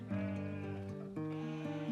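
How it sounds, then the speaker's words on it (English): Sheep bleating in a mountain pasture, two long wavering bleats one after the other, close and loud with no talk over them. "Stéphane Caravagno and Muriel Despouhon breed 200 sheep for their wool and their lambs"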